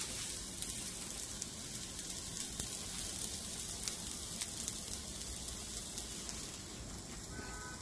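Crab cakes frying in a pan over low heat give a continuous bright sizzle and crackle, close and steady throughout with scattered pops, and no talk.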